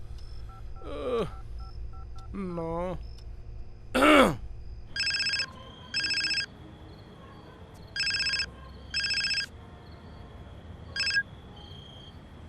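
Telephone keypad tones and ringing while placing a call to an electronics shop: a few voiced sounds and a gasp open, then a series of short, evenly spaced DTMF beeps and ring bursts, clear and close.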